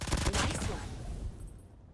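Rapid automatic gunfire from a Fennec weapon in a video game makes a dense, loud burst of shots that trails off into a fading echo within two seconds.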